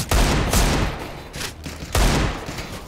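Gunfire in Counter-Strike, with a Five-SeveN pistol among the weapons, sounds as several loud, close shots with echoing tails spaced under a second apart.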